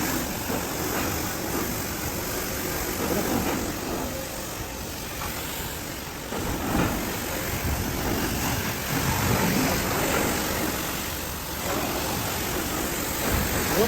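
A Shakti Jet Force 4 hp commercial pressure washer blasts water in a steady, hissing broadband spray with a constant high whine, moderately loud and uninterrupted throughout.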